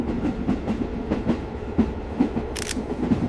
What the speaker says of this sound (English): This train ride through the Swiss Alps is like traveling through a painting.